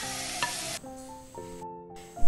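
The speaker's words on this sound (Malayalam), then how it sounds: "ഇനി നമുക്കിതിലേക്ക് സവാള അരിഞ്ഞതിട്ട് കൊടുക്കാം" Chopped onions and green chillies hit hot oil for a squid gravy, giving a brief sizzle and stir scrape. It is soon followed by quieter frying over a faint tonal background.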